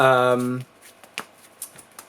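Yu-Gi-Oh trading cards are shuffled by hand after a voice stops speaking, giving a series of soft, irregular riffling clicks and flicks close by.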